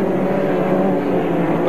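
Autocross buggy powered by a Volkswagen 1600 EB engine racing, a loud sustained droning engine roar with steady tone, unbroken across the moment and heard from a moderate distance.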